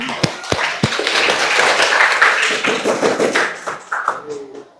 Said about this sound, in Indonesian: aplaus dulu untuk anak-anak hebat saya